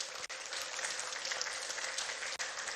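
Sustained applause from the audience at a ministerial press briefing on industry, trade and investment, a steady dense clatter of many hands with two short dips, heard alone without talking.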